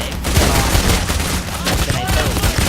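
Rapid gunfire from the video game Payday The Heist crackles continuously at close range, dense and loud throughout, with a voice briefly mixed in.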